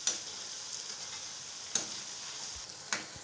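Snake gourd bajji fry in hot oil with a steady close sizzle, broken by a few sharp crackles and pops.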